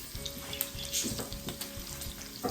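Bacon strips fry in a pan, giving close, steady sizzling with small crackles and pops, and no voices.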